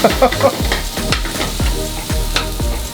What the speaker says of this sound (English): the sizzle coming from there now